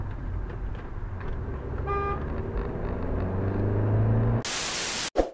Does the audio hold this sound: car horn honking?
yes